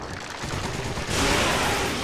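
Gunfire in Resident Evil 5, a brief burst of dense, rapid shots that jumps louder about halfway through and keeps going to the end.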